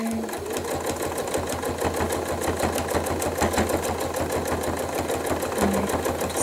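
Close and loud, a sewing machine runs continuously while stitching couched cord onto a bag, its fast even needle rhythm ticking steadily throughout.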